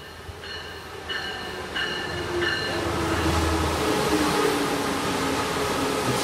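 A MARC commuter train with two SC-44 locomotives and eight coaches rumbles past nearby, a series of horn tones sounding early on, followed by a rising, steady rolling roar of wheels.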